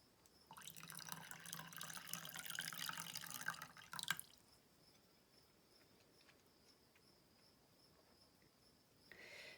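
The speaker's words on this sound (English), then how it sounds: "I pour water off." Water poured off tomato seeds in a container makes a bright splashing trickle for about four seconds, then stops abruptly. A faint high insect-like hum remains in a quiet room.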